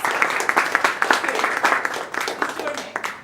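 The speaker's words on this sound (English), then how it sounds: "could we please give her a warm round of applause and welcome her" An audience at a Startup Grind fireside chat in Muscat applauds warmly to welcome a speaker, with uneven clapping of varying loudness and voices mixed in.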